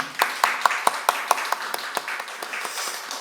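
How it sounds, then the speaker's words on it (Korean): A church congregation at a Sunday service claps in welcome and blessing for a newlywed couple, crisp hand claps starting in a quick, loosely rhythmic pattern and thinning into scattered claps near the end. "우리 인사 드릴 때 우리 축복의 박수로 우리 환영하겠습니다."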